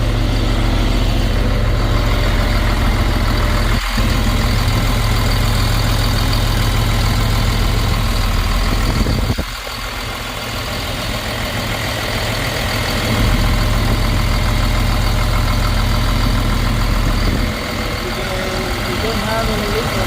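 A CAT 950H wheel loader engine runs steadily at idle after repair, a loud, constant low rumble throughout with a brief thump partway and a slight shift in tone later.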